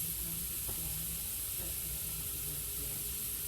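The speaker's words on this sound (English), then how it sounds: "I'm just going to kind of gently move them around a little bit so they're all frying." Steady hissing sizzle of chicken livers frying in a pan, constant and close, with a couple of faint soft clicks.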